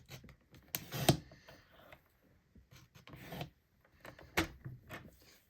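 Scissors or a craft blade cutting paper for an interactive shutter card, quiet close snips and rustling with two sharper cuts.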